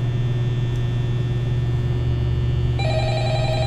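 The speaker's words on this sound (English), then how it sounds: "Oh, phone's ringing." A telephone ringing in the horror video game Five Nights at Freddy's: a tonal electronic ring starts near the end over a steady low hum and fan-like drone, clear and moderately loud.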